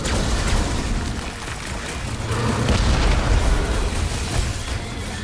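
Deep, rumbling booms and crackling blasts from a core explosion in the Guardians of the Galaxy video game, loud and sustained with waves of low roar throughout.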